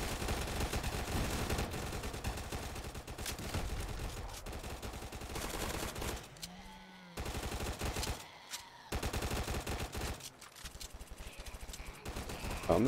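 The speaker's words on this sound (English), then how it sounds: "I just switched back to assault rifles. Like when it's shooting, it does pretty well" Assault rifle fire in a video game, sustained rapid automatic bursts with brief pauses between strings of shots, loud and close throughout.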